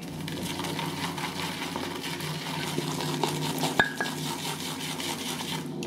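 A shaving brush swirls bay rum soap into lather in a bowl, making a steady, close wet churning with one brief clink against the bowl.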